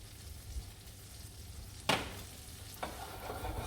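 Half the onions and garlic go into hot butter in a pan, giving a faint, low sizzle with a sharp clatter near the middle and a softer knock shortly after.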